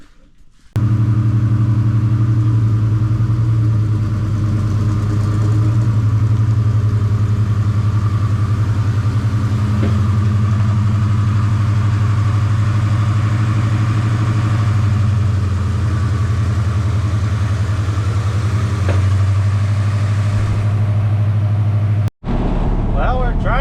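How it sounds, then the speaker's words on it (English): A 1980 Chevy K20 truck with a 400 small-block V8 drives steadily, its engine droning with a persistent whirring hum throughout, close and loud, cutting off abruptly near the end. "It still kind of does that whirring or whatever."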